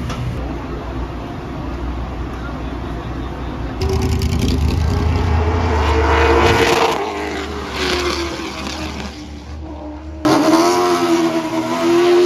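An Oldsmobile Cutlass race car at a short-track oval revs loudly and close by, its engine surging up and down in several bursts with a brief drop between them.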